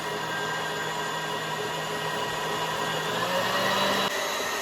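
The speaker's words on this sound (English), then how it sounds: "I'm gonna put the egg in my mixer one at a time. And I'm gonna blend until fluffy." An electric mixer whirs steadily while blending cake batter with eggs for Jamaican rock cakes, a constant close motor drone with a slight pitch shift near the end.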